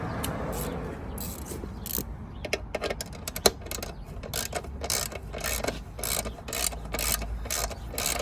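A hand ratchet clicks in quick repeated bursts while tightening exhaust clamp bolts on a KTM 1290 Super Adventure motorcycle, close and crisp with short pauses between strokes.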